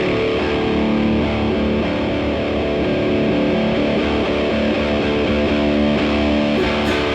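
A heavily distorted electric guitar plays sustained, thick chords, loud and continuous throughout with no pauses.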